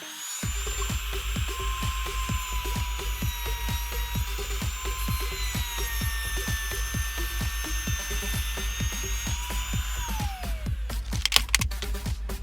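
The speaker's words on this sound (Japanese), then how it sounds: "そして位置を決めるためのアクリル板を外してトリマーをかけると、" A handheld wood trimmer router with a straight bit cuts a groove in a wooden board, guided by an aluminum angle jig. It gives a steady, loud, high-pitched whine over a rapid chattering cut, then the pitch drops as the motor winds down near the end.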